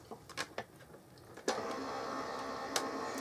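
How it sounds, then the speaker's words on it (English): An electric Big Shot die cutting machine starts up after a few light clicks and handling taps, then runs with a steady, close mechanical whir and grind, broken by a brief clunk near the end. "I'm just going to run that through my die cutting machine."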